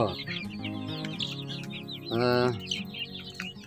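Hybrid laying-breed chicks and ducklings a little over three weeks old, with rapid, high-pitched chirps and peeps from several birds overlapping close up, plus a brief louder call near the middle.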